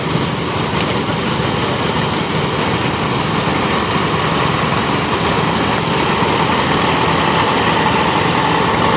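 Antique 1948 VAC tractor engine running in a farm expo tractor parade, a loud, continuous broadband engine drone that stays steady throughout with no talk.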